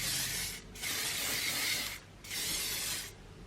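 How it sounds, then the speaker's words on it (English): Living Proof Flex hairspray sprayed onto curled hair in two long, steady hissing bursts from an aerosol can, close and clear with a short pause between, no talking. "We're going to do a spray of hairspray."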